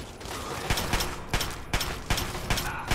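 Pistol shots in Fallout 3 fired at an even quick pace, about half a dozen sharp cracks over a busy combat background, fairly faint.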